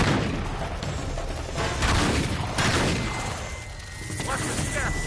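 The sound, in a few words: gunfire in the video game Uncharted 3: Drake's Deception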